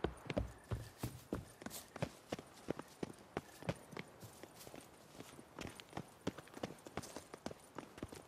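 A horse gallops in The Witcher 3, its hooves beating a fast, steady clip-clop rhythm throughout, close and clear.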